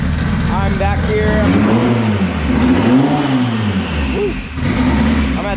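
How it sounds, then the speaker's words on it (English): A street-class car engine runs unevenly nearby, its pitch rising and falling through a couple of revs over a low idle, with a person talking close to the microphone. "So Jamie's trying to get his car running a little smoother."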